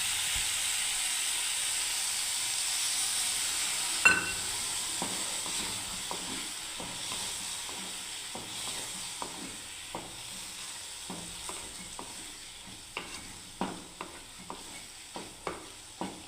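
Poppy seed paste sizzling in a frying pan for kacha kolar posto, a steady frying hiss with repeated sharp stirring scrapes and taps of the spatula, close and fairly loud.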